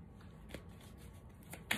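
Tarot cards being shuffled by hand, a quiet papery riffling with a few soft slaps, close but low in level, with no talking.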